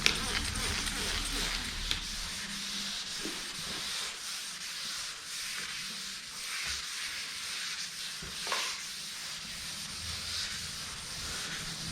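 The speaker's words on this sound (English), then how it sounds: "When you're wet sanding like this, basically it's just like washing a car." Steady rasping of hand sanding on a wet surface, repeated back-and-forth strokes that stay fairly quiet and close.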